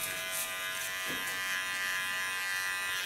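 An electric hair clipper buzzes steadily and close up while trimming the last centimeter or so of a short pixie cut, a constant bright whine with a brief dip as it moves through hair.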